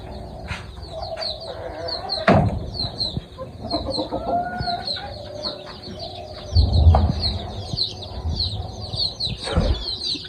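Several native desi chickens, outdoors for the first time, cluck and chatter nearby, with a few louder bursts of flapping and scuffling mixed into the ongoing clucking.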